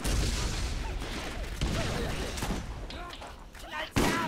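Rapid gunfire from a Borderlands firefight, dense bursts and booms running almost throughout, with excited player voices talking over the shooting.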